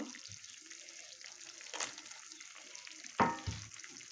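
Pointed gourd pieces go into oil and spice paste in a pan, giving a quiet sizzle with a few scraping stirs and a sudden louder spatter near the end.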